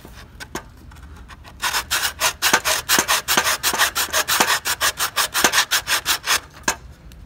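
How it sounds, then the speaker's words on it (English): Rhythmic back-and-forth strokes of sandpaper or a rasp working the coped end of a wooden baseboard, about two strokes per second, steady and close with no talking. "and you just run it like this, push it down, and sand it to fit"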